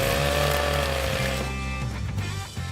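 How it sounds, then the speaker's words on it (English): Chainsaw biting into thick ice at a remote Klondike gold-mining claim, a loud, steady engine drone with a grinding cut that eases slightly toward the end. "You're really gonna treat your poor chainsaw like that? It's ice."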